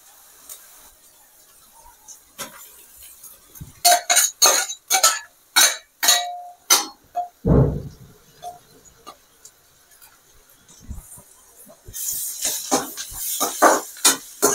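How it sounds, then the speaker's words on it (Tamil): Beetroot sautéing in a pan as it is stirred, a run of sharp scraping and clinking spatula strokes against the metal with a soft sizzling hiss underneath, the strokes quick and rhythmic, then steadier frying noise toward the end. "பீட்ரூட்டையும் நல்லா வதக்கணும்."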